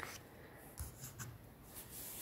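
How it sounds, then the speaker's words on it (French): A pencil eraser rubbing pencil marks off paper while making a folded paper gift pouch: quiet, close back-and-forth scrubbing strokes, soft and steady with a few slightly louder passes. "donc j'ai tout gommé"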